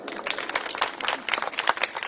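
A short, fairly soft burst of audience clapping at a parenting talk, dense and steady throughout with no speech on top.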